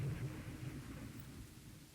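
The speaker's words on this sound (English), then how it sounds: "Okay, light rain." Light rain in the naval strategy game Rule The Waves 3 makes a steady, soft wash of noise with a faint low rumble beneath, constant and fairly quiet throughout.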